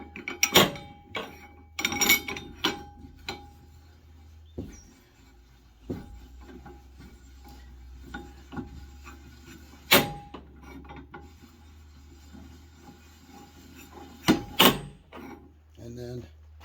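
Bicycle suspension fork work: a bolt is threaded down through a Sundown fork, with scattered metallic clicks, taps and scrapes of parts and tools close by, separated by quiet gaps.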